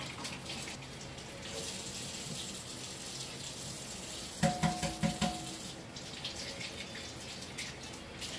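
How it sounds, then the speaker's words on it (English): Cold water running steadily from a kitchen tap while boiled eggs are peeled underneath, a continuous close gush with a few soft knocks and splashes partway through. "I like to do it under running cold water like this"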